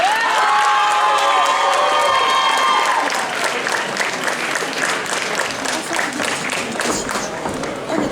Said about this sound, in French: Je vous demande d'applaudir Aqua par Tsubaki Sesui.